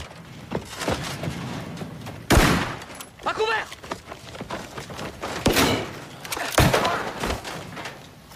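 Gunfire erupts in a battle scene set in a jungle, with sharp bursts of shots and heavy thumps at intervals, loud and close, with voices speaking between the volleys.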